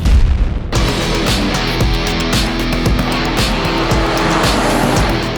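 A Hellcat-powered Plymouth Superbird is driven on the road. Its engine roars loudly and close after a brief lower opening, then holds a sustained, throaty drone.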